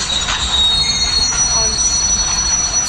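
A train in the Indian Bike Driving video game lets out a loud, steady, high-pitched wheel squeal that holds for about three seconds over a rumbling rail-car background.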